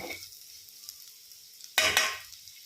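Pieces of taro root fry in a pan, heard as a short sizzle that fades to near quiet before a loud, hissing burst of frying that swells and then dies away.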